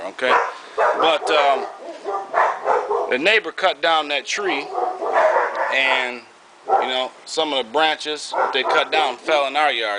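Dogs bark back and forth with a neighbor's dog next door, yips and barks scattered beneath continuous close talking from a man throughout.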